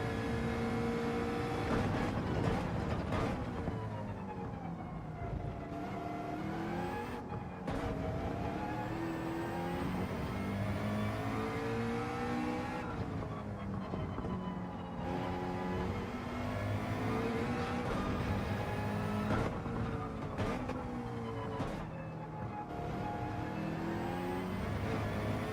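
McLaren race car in Gran Turismo 7, its engine droning loud and steady throughout with rising and falling pitch as it accelerates, shifts gears and brakes through corners on a lap.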